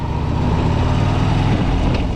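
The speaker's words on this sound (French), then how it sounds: "la moto reste quand même contrôlable." Motorcycle ridden on a run in the Ardèche with a crooked front fork, its engine giving a loud, steady drone with wind noise throughout, close and continuous.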